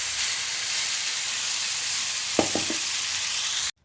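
Garlic chutney poured into a hot pan with curry leaves sizzles in a loud, steady hiss, with a few brief clinks near the end before it cuts off abruptly.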